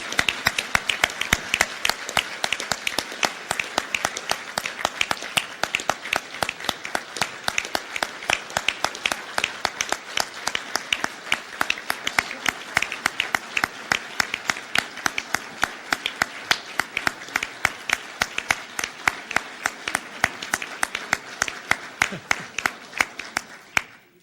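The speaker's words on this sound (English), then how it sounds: "Let's give all these wonderful people a round of applause." A Rotary club audience gives a round of applause for its past presidents, the claps crisp, even and closely spaced, holding steady and fairly loud throughout.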